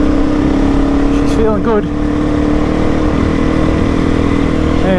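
A motorcycle engine on a solo adventure ride in the bush of South East Queensland drones loudly and steadily close by, with a brief rise in revs near the start and a voice speaking over it.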